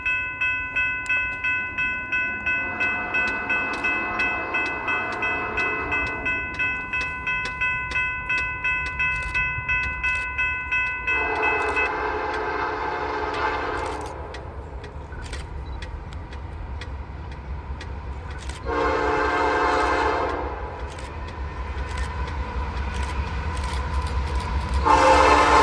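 A manifest freight train rolls past near Chattanooga and Soddy-Daisy, Tennessee, sounding its horn in several long blasts over the steady rumble and clatter of the railcars.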